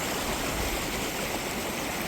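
Water pouring and running steadily in a Central Texas backyard pond build, a continuous broadband rush like a small stream or waterfall, close and fairly loud throughout with no talk.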